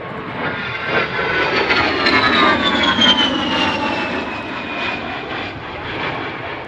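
A-10 Warthog jet performing an aerobatic airshow maneuver, a loud, sustained engine roar with a whining tone that rises and falls in pitch as the aircraft passes, no talking over it.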